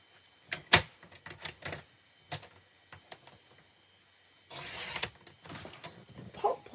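A paper trimmer works on cardstock: a series of close, sharp clicks and taps, then a longer scraping slide of the blade, followed by more scattered clicks.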